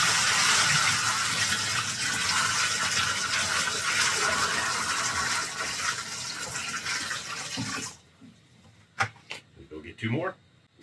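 Water poured from a 5-gallon bucket into a hydroponic deep water culture container, a loud steady gushing rush lasting several seconds that stops abruptly, followed by brief talking.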